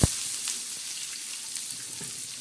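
Chopped onion frying in hot oil with curry leaves for a chana dal dish, a steady close sizzle with faint stirring scrapes and a sharp clink at the start.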